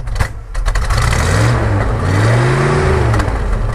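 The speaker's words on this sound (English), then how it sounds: "Go ahead and rev it up a little bit." A 1977 Dodge Ramcharger SE with a 440 big-block V8 and turbo mufflers, idling on a cold day, gets two deep throaty revs that rise and fall, loud and close, over a rumbling idle.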